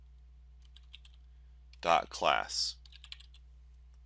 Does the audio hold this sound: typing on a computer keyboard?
yes